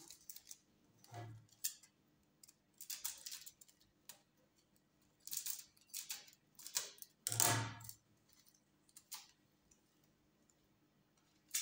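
Scissors cutting out the yoke of a dress pattern, scattered quiet snips and crisp crunching cuts coming in short bursts with pauses between, close and fairly faint.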